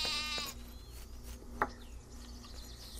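A sheep bleats in the game Craft the World: a short, clear bleat opens the clip, then fainter game sound effects and a quiet tonal hum follow, with no talking.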